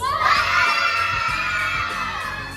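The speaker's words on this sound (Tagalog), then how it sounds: "At isang cheer na ingay para sa Buds." A crowd of children at a vacation Bible school shouts and cheers together for the Buds group, a loud, sustained burst of mixed young voices that peaks early and slowly tapers off.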